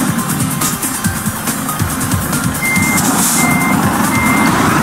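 Truck reversing beeps from Euro Truck Simulator 2 repeat steadily over a constant engine hum, with no talk.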